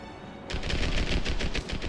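Rapid repeated shots in Medal of Honor Airborne, a sniper rifle firing in a fast regular burst after a brief quiet moment, loud and close.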